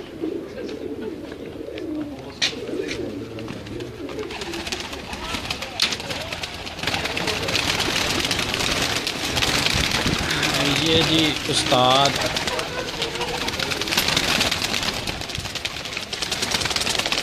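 Pigeons coo and flutter on a rooftop belonging to a pigeon keeper in Kasur, with bird calls scattered throughout; someone speaks briefly near the start, and a steady outdoor hum runs underneath.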